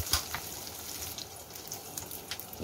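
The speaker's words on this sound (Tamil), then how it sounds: "நல்லா வதக்கி எடுத்துக்கலாம் எண்ணெயில் பூண்டு வெங்காயம் வத்தல் மிளகாய் மஸ்டர்ட் சீட் கறிவேப்பிலை" Garlic, onion, dried red chillies, mustard seeds and curry leaves fry in hot oil, giving a continuous close sizzle with faint crackles and light stirring.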